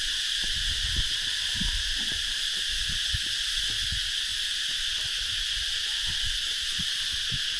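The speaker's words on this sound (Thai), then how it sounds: "นี่เสียงจักจั่น" Dense, steady high-pitched insect droning fills the air continuously, with soft low thumps and rustles underneath.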